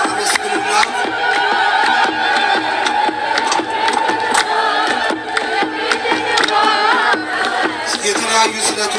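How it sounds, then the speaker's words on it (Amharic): A church congregation ululates together at an annual feast of John the Baptist, a dense, loud, sustained chorus of high trilling voices with scattered cheers, no break across the whole stretch. "እልል በሉላት፣ አመስግኑላት።"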